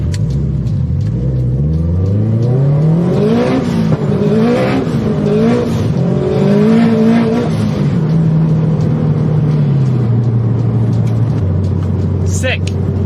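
A turbocharged Scion FRS running 16 psi of boost accelerates hard, its loud engine note climbing steadily in pitch before easing and settling into a lower drone, heard close with voices talking over it.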